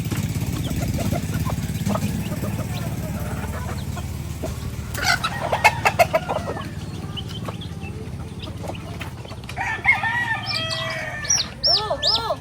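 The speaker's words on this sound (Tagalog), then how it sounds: "Papakain ng manok" Chickens cluck and a rooster crows amid farmyard noise, with a low rumbling background and scattered sharp bird calls, moderately close.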